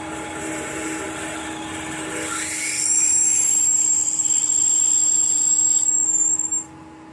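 A machine spins up to a steady high whine as a 5.7mm drill bit grinds into metal, drilling tapping size for a live steam model manifold turret, holding for several seconds before winding down.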